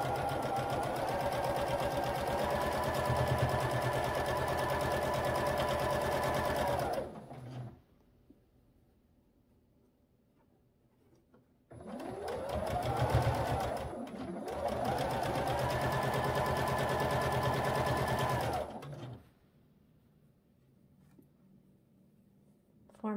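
A sewing machine stitching quilt blocks runs in two long, steady, fast-whirring bursts with a quiet pause between them, close and clear, with no talking.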